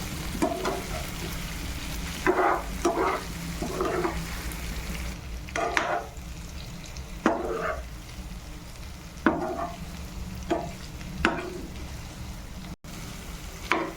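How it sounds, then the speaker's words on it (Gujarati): A spoon stirs boiled potatoes into a frying chutney for Kathiyawadi bhungra bataka, scraping in repeated strokes over a steady sizzle, close and moderately loud with no talking. "બટેકા સાથે આ ચટણીને બરોબર મિક્સ કરી લેવાની છે"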